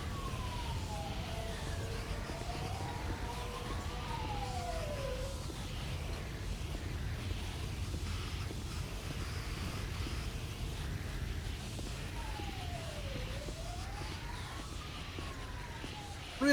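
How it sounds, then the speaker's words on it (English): Distant emergency sirens from vehicles in an NSW RFS firefighter patrol game wail twice in rising and falling sweeps over a steady low engine rumble, with no talk. "Really wish that ELS would let you use the fire engine sirens in the game, because they sound amazing"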